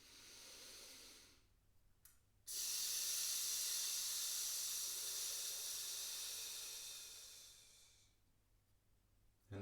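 A person drawing a long, steady breath in while holding a plank, a soft close hissing inhalation that swells and fades, preceded by a shorter breath.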